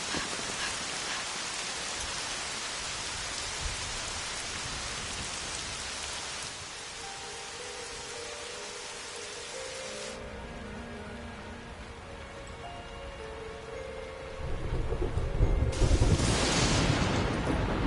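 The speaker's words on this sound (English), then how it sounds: "Storms are coming." A rainstorm in the video game Dragon Quest XI: steady, dense rainfall hisses loudly throughout, shifting in tone partway, with a swell of heavier rumbling near the end.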